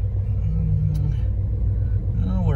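Car engine with a Quadrajet carburetor holding a steady idle on the choke's secondary idle step, around 750 to 800 rpm; a continuous low rumble sits close and fairly loud with no change in pitch.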